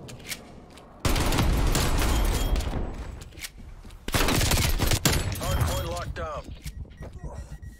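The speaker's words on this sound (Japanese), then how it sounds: "このタイミングで、右詰めて、敵を横から撃つ。" Gunfire from Call of Duty: Black Ops Cold War, in loud rapid bursts and single shots at close range with an impact crash, over a player's steady talk.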